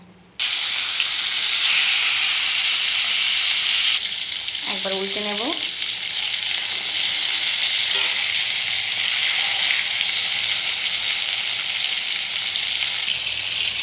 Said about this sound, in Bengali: এবার একটা একটা করে ইলিশ মাছ আমরা হালকা করে দু সাইডটা ভেজে নেব